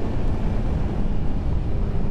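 A 2023 Kawasaki Z900 motorcycle runs at full throttle in fourth gear, its engine a loud, steady, close roar mixed with rushing wind noise.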